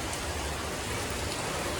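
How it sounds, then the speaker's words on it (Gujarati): Heavy rain pours down in Rajkot, a dense, unbroken roar of drops that stays loud and even throughout. "પાછો વરસાદે અંધરાધાન ચાલુ થઈ ગયો છે"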